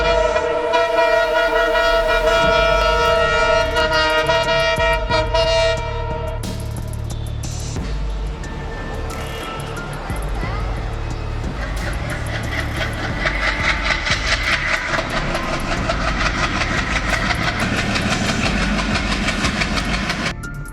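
A train passes a rail crossing, its horn blaring loudly in long sustained blasts before giving way to the rumbling, rhythmic clatter of rail cars rolling by up close.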